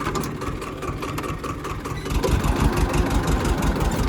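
A tractor engine idles in a field, a steady low mechanical chug that grows slightly louder and rougher toward the end, close by and heard alone without talk.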